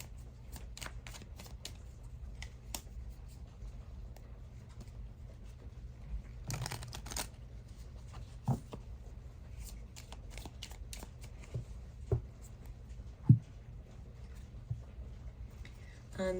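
Everyday Witch Tarot cards being shuffled by hand, a steady soft riffling and papery patter close up, with a few sharper card snaps standing out near the end.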